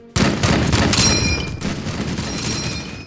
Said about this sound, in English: I am going to see if I can go ahead and open fire.